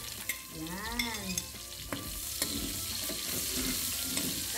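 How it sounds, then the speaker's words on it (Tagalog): Onions sauté in hot oil in a pan, giving a loud steady sizzle with a few clinks and stirring sounds near the start, heard on their own. "Sa isang kawali, ilalagay na natin ang ating sibuyas."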